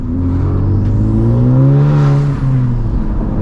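A modified Honda Civic FL5 Type R engine gets a single hand-timed rev-match blip, the note climbing to a peak and falling back as the gear engages, loud and close from inside the car.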